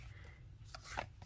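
A SAKURA card deck is shuffled gently and loosely, giving soft faint rubbing and a few light papery slaps near the end, close and quiet, with no talking.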